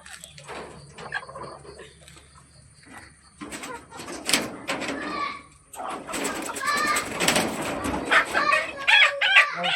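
Backyard chickens clucking and a rooster crowing at a home coop during egg collection, with intermittent bird calls building over nearly ten seconds as people talk and children's voices mix in nearby.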